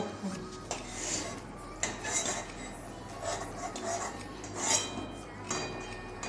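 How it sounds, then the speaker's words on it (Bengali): Sweet potato paratha is lifted off a pan onto a metal lid, with scattered clinks and scrapes of utensils against cookware, fairly close and quiet, with faint talk in the background. "গ্যাসটা নিভিয়ে দিচ্ছি এই ঢাকনার মধ্যে বের করে নেবো"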